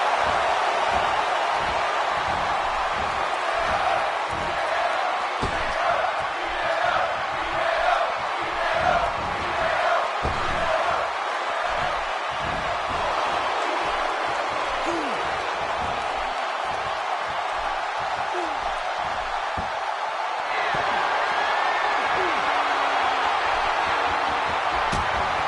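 A virtual arena crowd at a WWE 2K17 wrestling match keeps up a steady roar and chant, with dull impact thuds scattered throughout and a livelier swell near the end.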